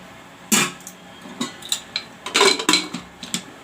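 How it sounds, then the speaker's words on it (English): A series of sharp metallic clanks and clinks as a lid is set and shifted on a pressure cooker of masoor dal, close by with short irregular hits. "Now I will put the cover on."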